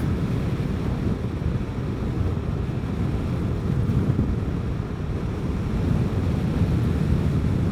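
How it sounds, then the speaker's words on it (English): Wind roars across the microphone of a rider on a Vespa GTS 300 Super Sport scooter heading into a southerly wind, a loud, constant low buffeting rumble with no talk. "We've got a wind blowing straight from the south today. I'm driving right into it."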